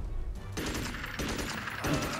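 An overpowered gun fires in the video game Magicka, rapid bursts of loud gunfire crackling in quick succession for about two seconds, with no talk over it.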